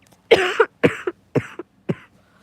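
Four harsh coughs in quick succession, loud and close, each a short rough burst with brief pauses between.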